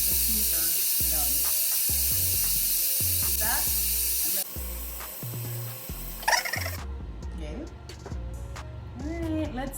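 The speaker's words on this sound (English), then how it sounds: "we're gonna go ahead and release the steam valve" A pressure cooker of peas for Jamaican rice and peas vents steam from its valve in a loud, continuous hiss that drops and fades partway through, followed by clattering and a voice speaking.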